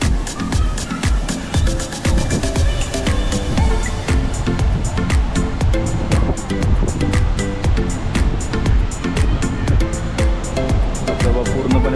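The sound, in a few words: waterfall at Kundeshwar Temple, Badlapur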